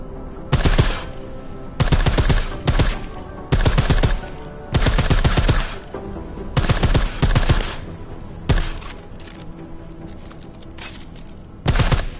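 Bursts of automatic gunfire from a silenced weapon in the video game Deus Ex: Mankind Divided, several loud rapid volleys separated by short pauses, close and dense.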